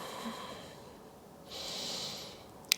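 Soft, close breathing during a yoga vinyasa flow, with a quiet inhale followed by a longer, breathy exhale in an otherwise calm room.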